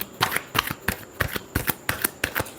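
A deck of tarot cards gets a quick final shuffle: a run of about ten crisp, riffling bursts in a brisk, uneven rhythm, close by and loud, with no one speaking.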